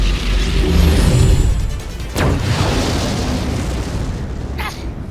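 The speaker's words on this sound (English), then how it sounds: "Main cannon! Fire!" A tank's main cannon fires in the Sand Land video game, a loud booming blast with a sharp crack followed by rumbling explosion noise over a dense, continuous battle din.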